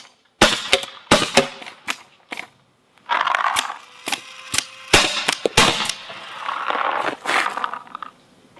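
A Palmer's Pursuit Shop Tornado semi-auto paintball marker fires sharp, loud shots close by. Single shots come irregularly at first, then quicker bursts follow amid rattling hopper and handling noise.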